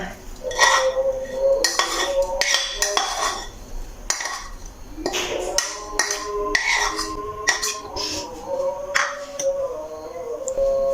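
Spiced potato filling for aloo naan being mixed in a bowl, with repeated clinking and scraping of a metal spoon against the dish in an uneven rhythm, close and fairly loud, with no talk.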